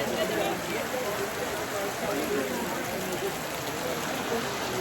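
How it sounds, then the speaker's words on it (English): Rain falling at an outdoor rimfire precision rifle match, a steady even hiss of drops on surfaces throughout, close and continuous, with no speech over it. "Got some rain"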